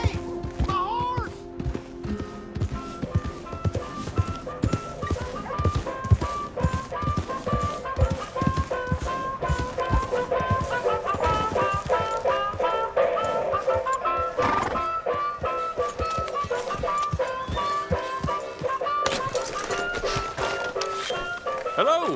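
Horse hooves clip-clop with a neigh in the online mode of the video game Red Dead Redemption 2. Busy game sound runs steadily underneath, and a voice is heard.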